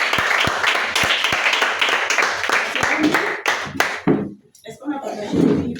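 A children's Sunday school church congregation claps and cheers loudly in a burst of sharp hand claps and voices, then the noise quickly fades into talking near the end.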